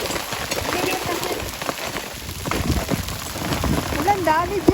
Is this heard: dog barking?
no